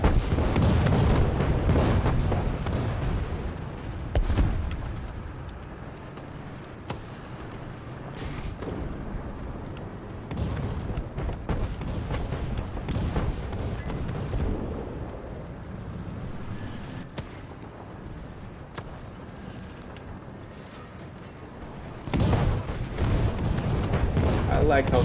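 Artillery and gunfire in a tank battle video game, with repeated heavy booming shots and blasts over a rumbling engine bed, some close and loud, plus a dense burst near the end.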